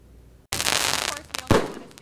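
Fireworks explode close by ahead of the Fourth of July: a sudden loud crackling blast breaks a quiet background, followed about a second later by another sharp burst amid lingering crackle.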